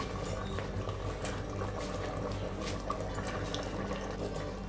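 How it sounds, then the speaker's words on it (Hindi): A hot pot of potato and egg curry still bubbling after the stove is turned off, a steady close simmering burble with no pauses. "ये देखें अभी भी इसके अंदर ऐसे उबाल सा आ रहा है"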